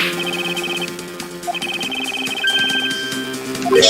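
A cell phone ringtone in the Ace Attorney Investigations video game: a bright electronic melody of repeated beeping tones that rings steadily, pauses briefly and resumes over a quiet synthesized background.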